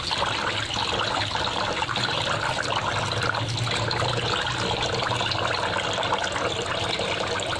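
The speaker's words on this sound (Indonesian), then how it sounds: "Kita cuci dalam bahasa Jawa disusuksi ya, 2 atau 3 kali supaya bersih dari kotoran" Rice being washed by hand in water, a continuous close sloshing and trickling of water with churning grains, no speech.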